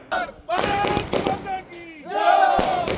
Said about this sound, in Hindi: आतिशबाजी करके और मिठाइयां खिला करके अर्जुन राम मेघवाल की उम्मीदवारी पर कार्यकर्ताओं ने अपनी प्रसन्नता और अपनी खुशी का इजहार किया।